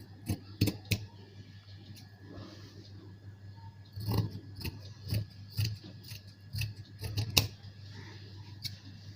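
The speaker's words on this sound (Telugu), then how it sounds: "ఇప్పుడు చుట్టూరు కూడా మార్కింగ్ చుట్టూరు కట్ చేసేస్తున్నాను" Scissors snip through blouse lining fabric along a marked line in a sequence of irregular, crisp close-up cuts, with a steady low hum underneath and no talking.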